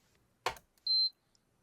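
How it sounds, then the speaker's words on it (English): A mug coffee warmer gives one short, clean electronic beep after a brief knock, alone in an otherwise quiet room. "If you hear a beep, that's my coffee warmer"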